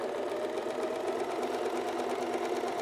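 An Alfa Practik 9 sewing machine stitches a 3-step zigzag at full width and small length, a steady fast whirring mechanical hum running evenly throughout, close up and without talk.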